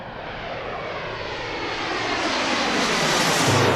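An airliner takes off from Runway 19 at Reagan National Airport in Washington, its jet engines roaring loud and near as a broad, rising rush that swells toward the end.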